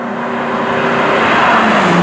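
A Ford GT engine accelerating under a light touch of the pedal, giving a steady, loud, close-up drone that rises slightly in pitch over two seconds, with no talking.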